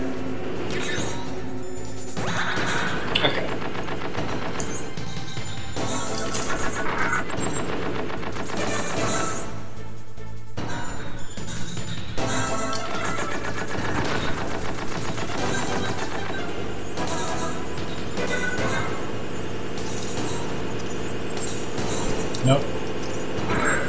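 Rapid video game gunfire from the Raven boss fight in Metal Gear Solid, dense bursts of machine-gun style shots mixed with game music and effects, steady and loud throughout with a player talking over it.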